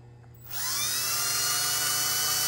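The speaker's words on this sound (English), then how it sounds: "you can hear it actually grinding the material" A small Honda GX160 engine valve being lapped against its seat with a suction-cup tool, a steady close grinding whine that starts abruptly after a short pause and holds loud and continuous to the end.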